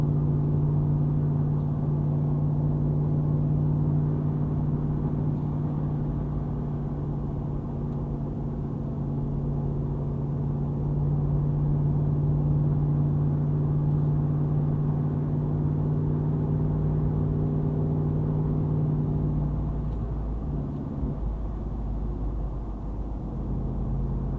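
A 2022 Jeep Wrangler Unlimited Rubicon 392 climbs a steep hill, heard from inside the cabin as a steady low engine drone with a sustained hum that shifts slightly near the end.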